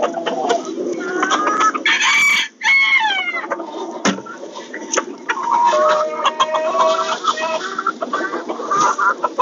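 A chicken clucks and croons steadily at close range, with rising squawks and chattering calls throughout.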